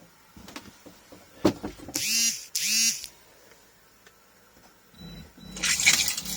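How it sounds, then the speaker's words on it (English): Water pump in a camper van switching on and whirring in two short bursts, then a longer run after a pause, close by in a quiet interior. "Let's see if we've got the"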